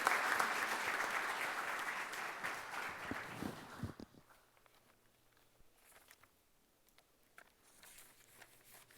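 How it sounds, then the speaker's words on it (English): Audience applause for panel participants at a governors forum, a dense round of clapping for about four seconds that cuts off, leaving faint room noise and scattered small sounds. "It's a nice round of applause to all our participants on the panel"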